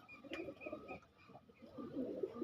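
Homing pigeons give soft, intermittent coos at close range, faint low-pitched murmurs rising and falling in a few short bursts.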